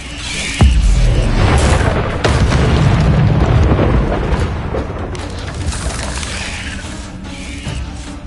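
Bombarda and Confringo blasting spells going off in Hogwarts Legacy, a loud booming detonation with heavy low rumble that rolls and crackles for several seconds before slowly fading.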